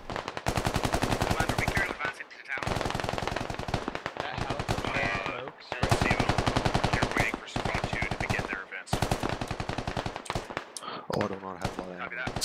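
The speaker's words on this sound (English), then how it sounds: "I'm just firing at the trees" Gunfire in the video game Squad: long, rapid automatic bursts separated by short pauses, loud and close, with a voice briefly heard toward the end.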